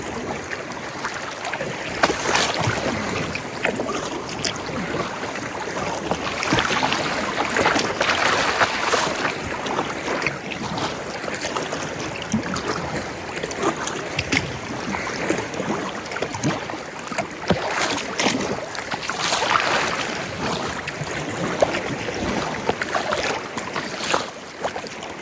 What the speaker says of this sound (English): the waves aren't bad. They're just really choppy and sloppy, which makes the boat